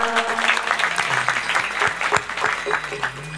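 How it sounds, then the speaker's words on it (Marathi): An audience at a kirtan gathering claps steadily and loudly, a dense patter of many hands sustained throughout, with a voice talking faintly beneath. "जोरात टाळ्या वाजवा."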